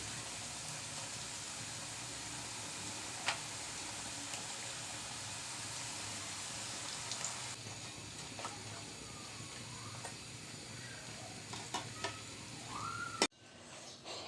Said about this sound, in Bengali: আমার তেল গরম হয়ে গেছে এবার আমি দিয়ে দিব ভাজার জন্য